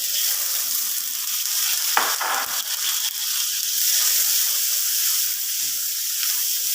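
Dry shrimp fry with cumin seed and mixed spices over a medium-low flame, a steady loud hissing sizzle with a few clattering stirs of the pan early on, no talking.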